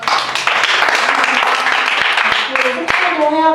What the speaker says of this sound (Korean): 박수 칠까요?